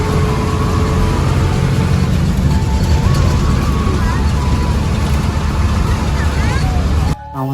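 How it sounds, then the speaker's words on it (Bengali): A bus engine idling and rumbling in steady traffic on a road trip from Dhaka to Shariatpur, with vehicle noise and faint tones over it, continuing loud and constant before cutting off near the end. "এই জন্য বাসের ইঞ্জিন নয়েজ দিলাম।"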